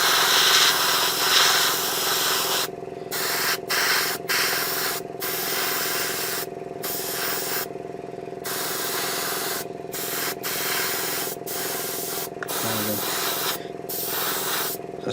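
An airbrush sprays yellow base coat onto a 1/12 scale Boba Fett model kit, a loud steady hiss broken by brief pauses, close up and with no talking.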